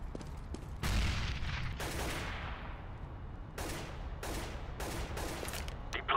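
A decoy grenade in Counter-Strike: Global Offensive on de_overpass fakes gunfire with bursts of sharp rifle shots, several separate volleys rattling out over a few seconds at moderate distance, no talking.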